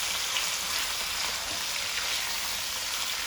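Half a kilo of chicken frying in a pan for korma, cooked until the meat turns white: a steady, dense sizzle with no breaks, close and moderately loud, with no one talking.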